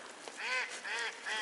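Ducks give a few short, nasal honking quacks, three calls spaced about half a second apart at moderate distance, with no talk over them.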